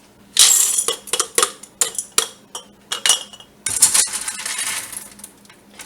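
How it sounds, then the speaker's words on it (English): Dry pinto beans poured into glass canning jars, a rapid rattling clatter of hard beans striking glass in several short bursts, then a longer continuous pour, close and fairly loud with no talking. "So I add half a cup of beans to each of my jars."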